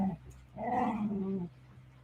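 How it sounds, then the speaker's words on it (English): Dogs growling: a low, rumbling growl with a short bark-like onset, fairly close and moderately loud, lasting about a second alongside a briefer growl at the start. "The dogs agree."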